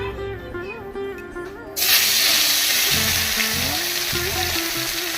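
Snakehead (shol) fish hits a hot wok and a loud, steady sizzle erupts partway through, rolling on continuously over a low hum and tonal background sound.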